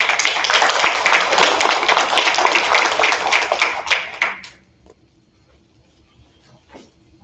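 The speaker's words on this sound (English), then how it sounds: "Let's give her a round of applause." A school board meeting audience gives a sustained round of applause for several seconds that tapers off quickly, leaving a quiet room with a few faint stray sounds.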